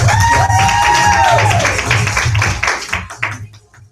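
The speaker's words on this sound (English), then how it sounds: "let's give Cynthia a big round of applause" Round of applause for Cynthia at a TNT unit meeting: a roomful of people clapping loudly and steadily, with a whoop over it, tapering off near the end.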